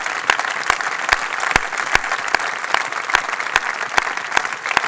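Steady audience applause from a crowd, dense clapping with a few sharp louder claps standing out, continuous and fairly close throughout.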